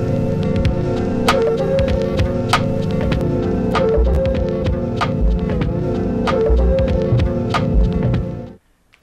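A full music mix played back through a secondhand Akai 280D quarter-inch tape machine in worn condition, sounding dense, squashed and noisy with regular sharp percussive hits, running steadily until it cuts out near the end.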